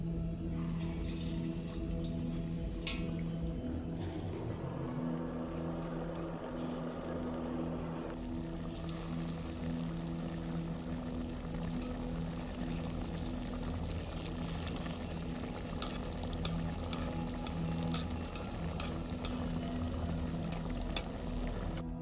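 Soya kababs fry in hot oil with a continuous bubbling sizzle over a low steady hum, unbroken for the whole stretch, with no voices.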